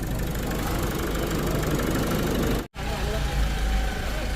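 An Isuzu D-Max 1.9 diesel pickup engine, knocking and blowing white smoke, idles with a steady, rough rumble, broken by one brief dropout, then continues evenly.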